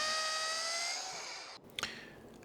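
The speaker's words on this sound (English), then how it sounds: "Using a 10mm wood drill bit, drill through from the opposite side for the bolts." A power drill with a 10mm wood bit bores through timber for fence bolts, giving a steady high whine that sags slightly under load, then cuts off abruptly and is followed by a short clatter.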